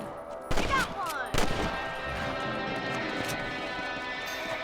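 Rifle shots fired at rabbits in the video game Red Dead Redemption, two sharp close cracks a second apart followed by fainter follow-up shots, under game ambience with occasional talk.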